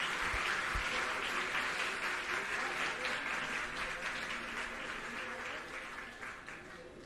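Loud, sustained applause of welcome from an audience at a school opening ceremony in Delhi, a dense wash of clapping that tapers off gradually toward the end.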